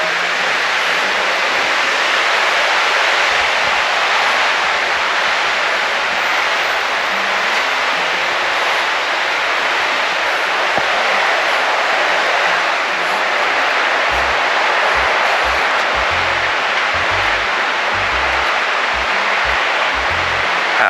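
Steady broadband roar of Haew Suwat waterfall in Khao Yai, a continuous rushing wash of falling water heard from a short distance, loud and unbroken throughout with no talk.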